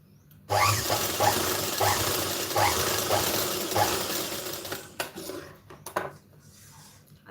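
A sewing machine stitching a blouse runs in a close, rhythmic mechanical patter for several seconds, then stops, leaving a few faint clicks and handling sounds.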